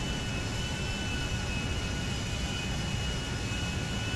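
Airliner jet engine in the GTA 5 video game, a steady loud broadband roar with a constant whine, continuous and unbroken throughout with no talk.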